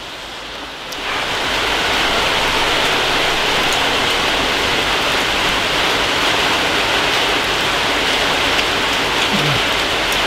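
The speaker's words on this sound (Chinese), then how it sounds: "下好大雨" Heavy rain pours down in a dense, steady hiss that swells in within the first second and stays loud and constant, with no one talking.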